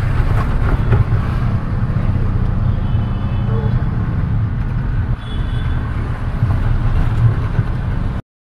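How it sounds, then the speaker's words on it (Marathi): An auto rickshaw rides along a road in Pune, its small engine droning steadily with road rumble, a short dip midway, then cutting out at the end. "मी आता निघले रिक्षामध्ये"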